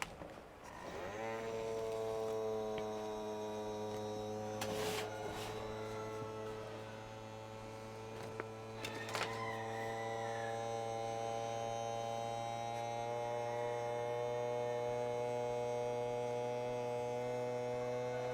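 A mason jar vacuum sealer's small motor whirs up and runs with a steady electric hum, a couple of faint clicks and knocks partway through, no voices.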